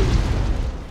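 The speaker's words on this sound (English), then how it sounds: "this weird explosion sound that kind of sounds almost vacuumy, like it almost goes up at the end" Explosion sound effect from Tim Burton's Batman film, a single deep, booming blast with a strange vacuum-like quality that sustains and slowly decays over about a second.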